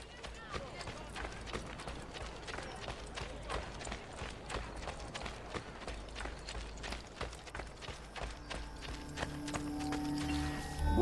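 A horse gallops in the Assassin's Creed video game set in Rome, hooves clip-clopping in a fast repeated rhythm, with game sounds and voices around it and a sustained tone swelling near the end.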